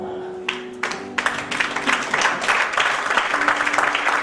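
Applause and cheering from an audience at a French-language preaching gathering, starting with scattered claps and swelling into a dense, sustained roar of clapping and voices.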